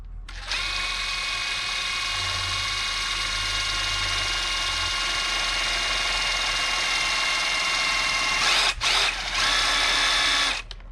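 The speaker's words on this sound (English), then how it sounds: "my step bit and I'm gonna drill a hole roughly where I feel like this should be" A power drill with a step bit bores a hole through a vehicle bumper, a steady loud high-pitched whine held for about eight seconds, then a brief stop and a second short burst, with no talking.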